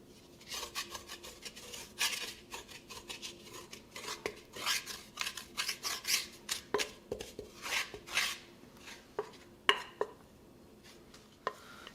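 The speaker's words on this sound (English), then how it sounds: "So we're just gonna knead this just a little bit until we get all the combination blended well together" Dough for beignets worked by hand on a board, giving irregular soft slaps, rubs and presses in an uneven rhythm, close and fairly quiet, with occasional light clinks and no talk.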